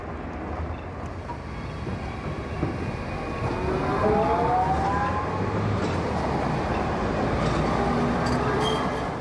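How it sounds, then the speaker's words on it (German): Cologne Stadtbahn line 7 tram, a Bombardier Flexity Swift, braking into Deutzer Freiheit station: a rumbling rolling roar with rising and falling whining motor and brake tones, fairly close. "Halt für einen Zug der Linie 7 an der Station Deutzer Freiheit"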